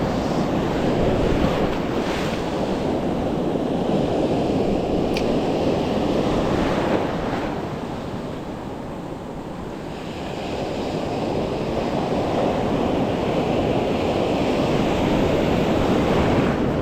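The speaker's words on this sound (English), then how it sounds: "Look at the surf, study the contour and the structure, and learn from it, whether you're fishing or not." Ocean surf breaks on a beach as a continuous wash of roaring waves, heavy wind buffeting the microphone, with the noise easing briefly midway before swelling again.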